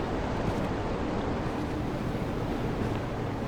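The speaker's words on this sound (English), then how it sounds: "What is that noise? Waterfall? Oh, it is a waterfall." An underground waterfall in a cave in a caving game gives off a steady rushing roar that is loud and continuous, with no breaks or voices.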